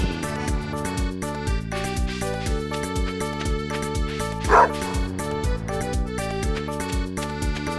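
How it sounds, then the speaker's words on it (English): A farm dog in Stardew Valley on PS4 barks a few times, its short yips half-buried under the game's steady, bouncy background music, fairly close and not much louder than the tune. "Our dog is barking at us."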